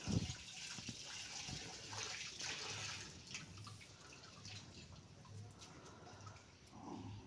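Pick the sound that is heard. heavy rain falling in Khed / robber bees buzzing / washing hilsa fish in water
washing hilsa fish in water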